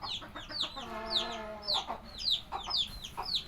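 Chickens on a small home poultry farm of native hens cluck and call in a close, busy chorus, with repeated sharp squawks and a brief drawn-out cackle overlapping continuously throughout.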